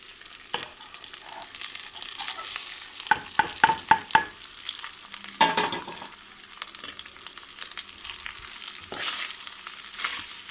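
Cooked rice tumbled and mixed in a bowl for lemon rice, giving soft scraping and stirring strokes with a few sharp spoon clicks, close and moderately loud, with no talking.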